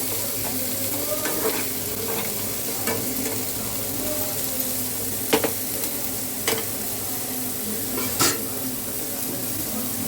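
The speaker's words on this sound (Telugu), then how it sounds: "సన్నగా తరిగిన ఉల్లిపాయలు ఎర్రగా వేగాలి" Thinly sliced onions sizzle steadily in a hot pan, with occasional sharp clicks and scrapes of a spatula stirring them, close and continuous without any talking.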